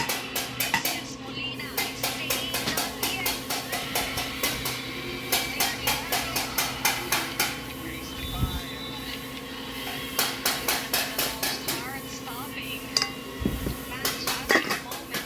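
Construction workers hammer at a house next door. Rapid, sharp metallic strikes come in rhythmic bursts with short pauses, fairly close and loud against a low background hum.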